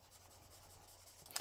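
A marker colors on white paper while laying down green in a stamped tree scene, giving a soft, steady, close scratching and rubbing with a sharper stroke near the end, with no one talking.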